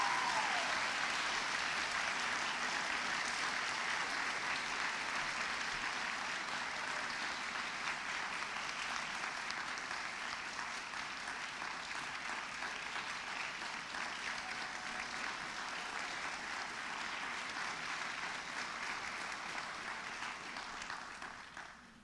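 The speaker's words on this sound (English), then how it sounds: "Please give them all a round of applause." College audience applauding student award recipients at an achievement celebration, a sustained wash of many clapping hands heard from some distance, steady and even throughout before fading slightly at the end.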